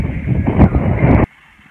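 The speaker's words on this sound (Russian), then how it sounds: "Ветер." Wind buffets a microphone outdoors in a loud, rough low rumble that lasts just over a second and then cuts off abruptly into near silence.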